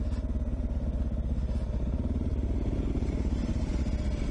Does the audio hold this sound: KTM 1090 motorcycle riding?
yes